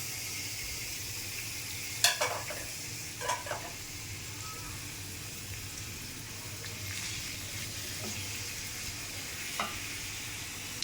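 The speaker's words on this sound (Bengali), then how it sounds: "পেঁয়াজ কুচিতে ভাজা দিয়ে দিলাম।" Chopped onions frying in hot oil in a kadai, a soft steady sizzle with a few scraping stirs and clinks of a spoon against the pan, close and fairly quiet.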